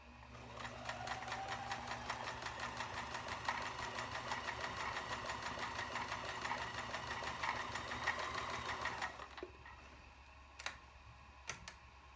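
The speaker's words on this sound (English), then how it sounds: "we'll do our widest zigzag just to show" A Kenmore zig-zag free-arm sewing machine stitches its widest zigzag, running steadily at close range with a rapid, even mechanical patter for about nine seconds before stopping, followed by a few isolated clicks.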